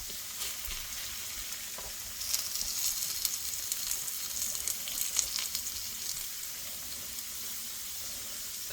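Food frying on a griddle after being flipped, with potatoes and steak cooking, a quiet, steady sizzle with small crackles and light scraping rising near the middle, no voices.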